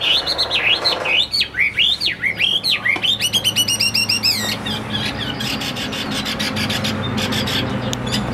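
A caged hwamei songbird sings loud and close, with rapid looping, sweeping whistles that give way to fast repeated trills, then quieter scratchy chatter continues over a steady background hum.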